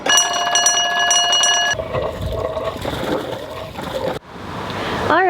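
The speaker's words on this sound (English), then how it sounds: "All right, gates are opening." Canal lock floodgate opening with water flowing: a steady rushing and splashing of water, briefly overlaid by a tonal beeping at the start, continuing loud and near throughout.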